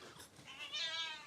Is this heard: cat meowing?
yes